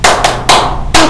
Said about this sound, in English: Can you clap yourselves?